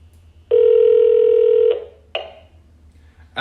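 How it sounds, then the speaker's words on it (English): A Viking K-1700-IP-EWP telephone access control system at a campground calls a phone. One long, loud steady tone is followed by a short click-like burst and a faint trailing tone in a quiet room. "the telephone access control system will call my"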